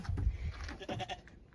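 Sheep on an off-grid homestead bleat nearby, a couple of short wavering calls overlapping with rustling as they eat hay.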